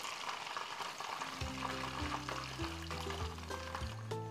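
Chicken cordon bleu balls frying in hot oil until golden brown, a steady close sizzle and crackle running throughout under soft background music.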